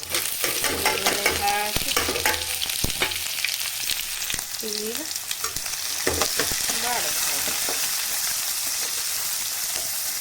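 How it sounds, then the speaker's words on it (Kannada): Tempering of cumin and curry leaves sizzling and crackling in a pan already used for frying okra (bendekayi), with steady frying hiss throughout, stirring scrapes and brief spoken words over it. "ಅದೇ ಪಾತ್ರೆಗೆ ಒಗ್ಗರಣೆ ಹಾಕಿದ್ದೀನಿ"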